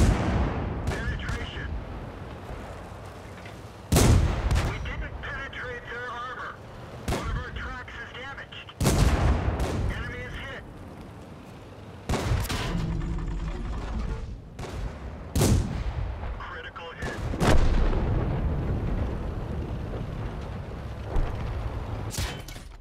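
Tank gunfire in World of Tanks: heavy cannon blasts boom out one at a time every few seconds, each with a long rumbling decay, amid quieter battle noise and occasional talk.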